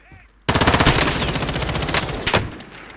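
Automatic gunfire in Call of Duty Warzone erupts after a brief quiet moment into loud, close, rapid rhythmic bursts that keep going, with a sharper volley near the end.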